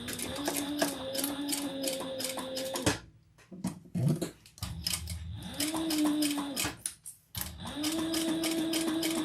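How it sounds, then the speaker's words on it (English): A sewing machine bastes fabric pieces in place with several close, steady bursts of rapid stitching, broken by short pauses and quieter handling noises. "we're going to sew those on. Just baste them in place."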